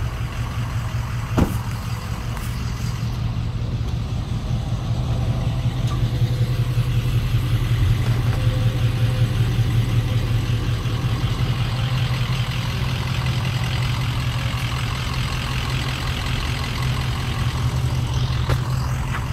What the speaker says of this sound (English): I'll give you an idle exhaust note while I'm here.